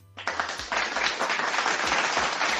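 Small group applauding, starting abruptly after a brief hum and continuing as a steady patter of clapping hands at moderate volume.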